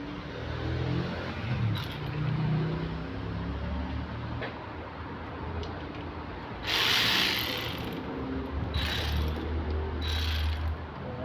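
Ratchet tightening bolts on the eccentric shaft of a BMW N20 engine, a steady run of close mechanical clicking through the clip, alone with no talk.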